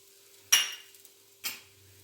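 A spatula working a spicy green chili mixture with crushed peanuts in a pan, heard as two short, sharp metallic scrapes about a second apart against a nearly quiet background.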